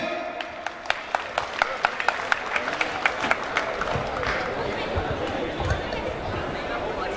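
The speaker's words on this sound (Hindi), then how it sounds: "एक बार जोरदार तालियां हो जाए।" Audience applause with sharp individual claps standing out over a steady crowd murmur, rising and then settling into background chatter.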